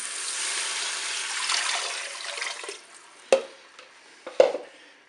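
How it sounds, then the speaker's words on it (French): Broth poured into a Cookeo pressure cooker, a hissing, splashing liquid stream for about three seconds, then a couple of sharp clinks and knocks as the pouring ends. "Je vais maintenant verser mon bouillon."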